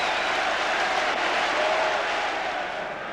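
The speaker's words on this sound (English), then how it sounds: "A great header. Applause from his manager." Football stadium crowd applauding after a headed chance, a broad, distant wash of clapping and crowd noise held steady before easing slightly at the end.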